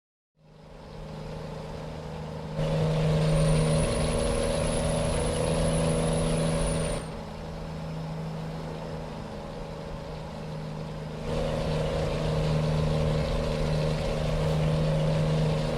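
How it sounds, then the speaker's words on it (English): A loud truck engine drones steadily throughout, its level stepping up and down as it runs, with no voices over it. "the engine I put in this truck is just too loud."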